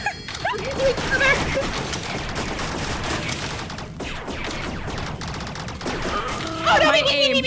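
Gunfire rattles in rapid bursts through a FNAF Security Breach contest map in a video game, with continuous effects throughout and squealing electronic noises near the end.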